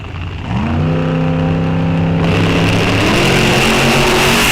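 A Studebaker and a 2000 Camaro launch in drag racing lanes, engines building from a low idle into a loud, rising roar that holds steady and close to the end.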